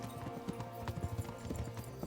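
Horse hooves clip-clop in a quick, irregular rhythm in the medieval video game Kingdom Come: Deliverance, fairly soft and close, with low background music underneath.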